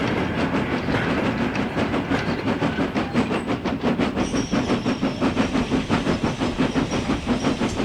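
A steam locomotive climbs a steady 1 in 50 gradient, its loud, close exhaust beats chuffing in an even rhythm over continuous rail rumble and hiss.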